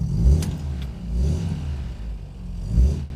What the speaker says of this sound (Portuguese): E vamos ouvir esse motorzinho.